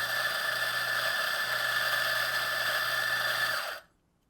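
An espresso grinder grinds a double dose of coffee beans with a steady, high-pitched whirring motor drone lasting several seconds before cutting off abruptly.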